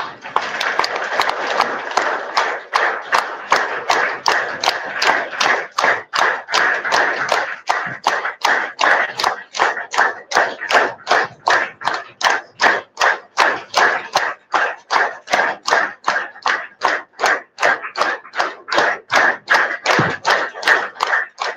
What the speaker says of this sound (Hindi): 50 ताली मारेंगे।